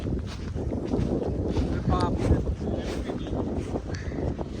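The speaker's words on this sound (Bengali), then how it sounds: "এ হাওয়া।" Wind by the sea in Scotland blows as a constant low roar and buffets the microphone with rumbling gusts throughout, loud and close.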